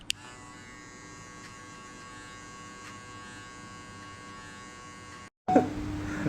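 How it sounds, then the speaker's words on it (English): An electric hair clipper buzzes steadily while blending a mullet mid fade, a close, even whir for about five seconds before it cuts off and a short handling noise follows. "I will just flick the clipper this way"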